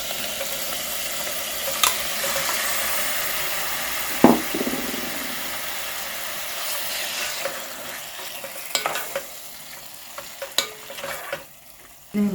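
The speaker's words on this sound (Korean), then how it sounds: "먼저 이제 기름에 충분히 김치를 이렇게 볶아주는 거죠" Kimchi stir-frying in sunflower or olive oil in a pot, the base of a tuna kimchi stew: a steady sizzle and crackle with occasional scrapes and knocks of a stirring utensil, close and without talk.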